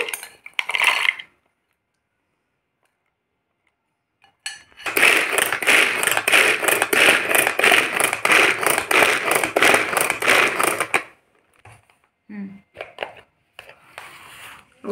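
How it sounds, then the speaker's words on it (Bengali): Green peas are ground in a small kitchen food chopper: a loud, dense rattling whir lasting about six seconds after a short clatter, followed by a few light knocks. "এই কড়াইশুঁটিটা একটা চপারের মধ্যে নিয়ে নিচ্ছি"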